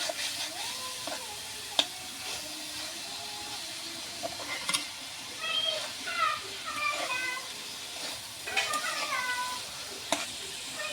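Banana flour bhaji frying in a pan while being stirred, a low sizzle broken by spatula scrapes and clinks. Faint chirping or meow-like squeaks appear now and then.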